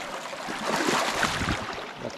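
A swift, cold stream current rushes through Linville Gorge, a steady close broadband wash of moving water with no voices.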